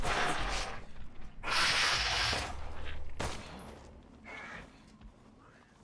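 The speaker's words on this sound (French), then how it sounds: "il faut plusieurs balles" Gunshots in the video game Resident Evil Village, inside Lady Dimitrescu's castle: three separate heavy blasts spaced a second or two apart, each trailing off into a quieter room tone.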